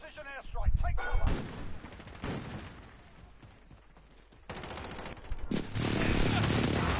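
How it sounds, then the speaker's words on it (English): An enemy precision airstrike hits in Call of Duty Warzone, with heavy gunfire-like blasts and explosive booms in bursts, loud and close, mixed with a game voice callout. "Enemy precision airstrike. Take cover."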